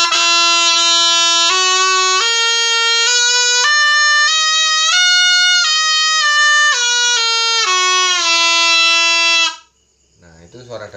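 A slompret, the Javanese reed trumpet also called kepian, plays a loud, nasal, buzzing sustained melody of stepped held notes for about nine seconds, then stops abruptly, leaving faint background noise.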